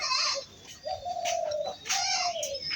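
Pigeons coo in a pair of soft, drawn-out calls with brief chirps around them, close by and with no talking.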